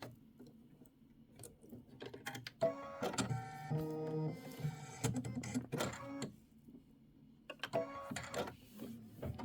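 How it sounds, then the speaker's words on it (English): Computerized embroidery machine stitching out flower designs in lavender thread on fabric, a steady mechanical whirring and rapid stitching rhythm with tonal motor whine, in bursts over about nine seconds, fairly quiet and close. "Just going to stitch out all those pretty flowers."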